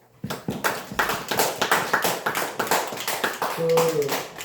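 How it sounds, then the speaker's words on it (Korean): Church congregation clapping for a pastor, a fairly small group giving quick, distinct claps in a rhythmic patter that holds steady for several seconds, close and clear, with a brief voice near the end. "박수 한번 쳐주세요"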